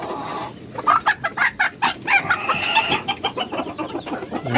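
Five-month-old fancy hens at a small farm cluck in quick repeated bursts, several birds overlapping close by over a steady barnyard background.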